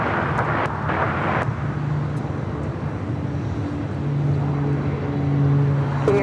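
A departing airplane at LAX on the airport's south side roars steadily throughout, a broad continuous jet rumble with a low droning hum, heard from a distance without any talk.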